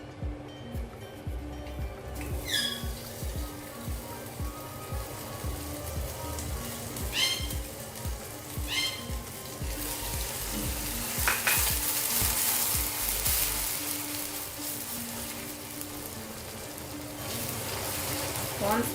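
Butter sizzling as it melts into caramelizing sugar in a pan while making butterscotch sauce, a steady crackling fry with stirring scrapes, close and continuous with no voices.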